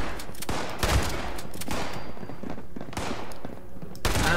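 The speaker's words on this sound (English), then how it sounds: "At least a lot of shooting right away." Bursts of gunfire ring out in Fallout 76, loud repeated shots and automatic volleys rattling in quick succession with short gaps between them and no talk over them.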